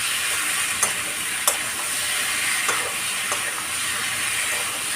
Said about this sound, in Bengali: এবার যে মশলাগুলো দিলাম এই মশলাগুলোকে খুব ভালো করে কষাতে হবে।